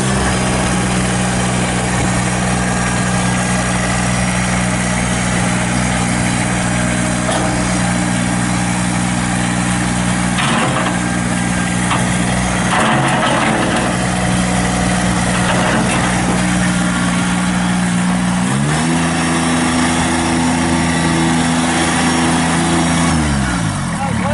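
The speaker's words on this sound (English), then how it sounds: "I'm going to run this tractor around, show you everything it's supposed to do." Engine of a 2016 Kubota BX2670 sub compact tractor running steadily in low range with four-wheel drive engaged, a continuous close drone whose pitch rises and shifts partway through.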